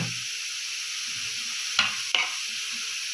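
Chopped onion hits hot oil in a pan at home for a baked chicken and vegetable tray, sizzling and crackling loudly and steadily, with a couple of sharp metallic spoon clinks against the pan.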